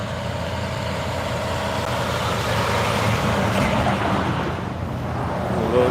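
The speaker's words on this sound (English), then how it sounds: "That was the bus going by." A bus drives past close by, a loud steady engine rumble and road roar that builds slightly toward the end, with no talking.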